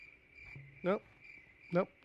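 Crickets chirp in two short, loud bursts about a second apart over a quiet room with a faint steady hum and no talking.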